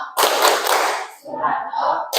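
A group of people clap together in a classroom-style clapping chant, a dense burst of many hands followed by a quieter stretch where voices chant over softer clapping.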